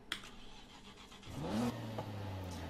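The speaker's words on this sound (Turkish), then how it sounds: "Beni en çok heyecanlandıran kısım her zaman olduğu gibi egzoz sesi abi." A stock Nissan Skyline in the Need for Speed Heat video game starts up and revs, a brief crank and roar settling into a steady idle with exhaust rumble, heard alone and up close.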